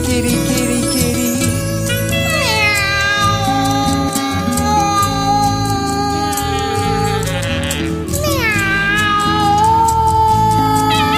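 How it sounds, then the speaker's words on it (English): A cat's drawn-out meows and wails rise and fall in pitch over a loud, busy musical backing, with repeated sliding cries standing out near the front. "Meow."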